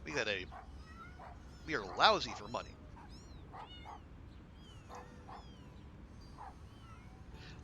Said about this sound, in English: the barking in the background is not unduly drawing Boom's attention